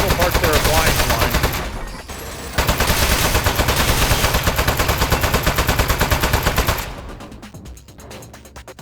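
Rapid automatic gunfire from the Aperture Desk Job video game rattles loudly and almost continuously, with a brief drop in the middle and quieter, spaced shots toward the end.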